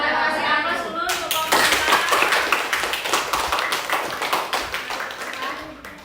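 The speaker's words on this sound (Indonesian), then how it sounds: "Kasih aplaus dulu untuk" Applause for a student group in a classroom lesson: a burst of many hands clapping together, loud and dense at first, then gradually thinning out and fading toward the end.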